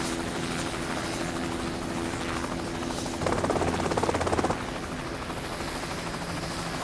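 A helicopter's steady rotor roar fills the whole stretch, with a louder, throbbing chop of blades surging briefly in the middle before settling back.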